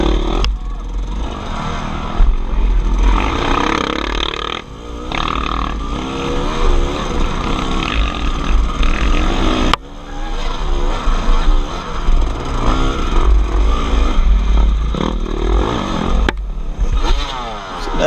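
A dirt bike engine revs hard and labors through a slick, muddy GNCC cross-country course at John Penton, the loud rasping exhaust rising and falling with throttle blips and brief drops as the rider recovers.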